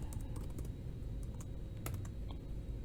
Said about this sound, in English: We're going to type in the number 7.